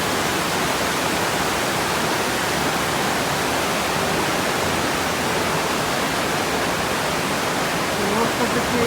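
Steady, dense roar of rushing water filling a cave in the Adirondacks, constant and loud with no breaks, echoing like a torrent inside an enclosed rock chamber.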